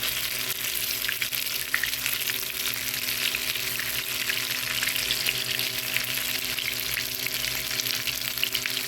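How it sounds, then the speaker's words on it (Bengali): Rohu fish koftas fry in hot oil, giving a dense, loud, unbroken sizzle that holds steady throughout, close by with no voices. "এখন কোফতাগুলো ভেজে নেব।"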